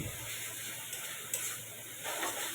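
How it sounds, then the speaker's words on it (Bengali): Cumin spice paste fries in a pan with a steady, soft sizzle and hiss, with no voices over it. "তো দেখো, এটা ভাজা ভাজা করতে হবে কিছুক্ষণ।"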